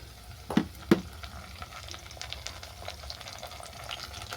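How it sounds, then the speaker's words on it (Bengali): Cauliflower and carrot pieces frying in a pan give a low steady sizzle, with two sharp clinks of stirring near the start, then a quieter continuous crackle with no talking. "এদিকে তো ফুলকপি গাজরটা ভাজা ভাজা হয়ে গেছে"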